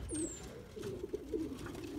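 Racing pigeons in a loft give soft, repeated cooing calls, close and fairly quiet, with a faint background hum and no talking.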